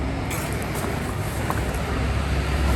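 Haulage lorry driving past on a road, a loud broadband rumble and roar that stays close and steady, growing slightly heavier in the low end toward the end.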